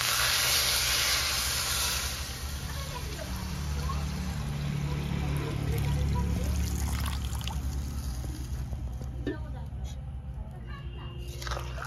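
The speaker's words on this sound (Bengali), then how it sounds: "এবার দিয়ে দেব পরিমাণ মতো জল।" Water pours into a pan of fried taro and potato, a hissing, sizzling trickle that swells as it hits the hot pan, then settles into a softer bubbling simmer nearby.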